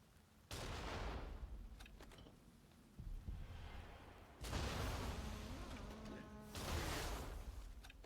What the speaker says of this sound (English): from here I can safely shoot my cannon at stuff.